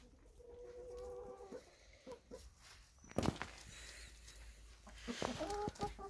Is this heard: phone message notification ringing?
no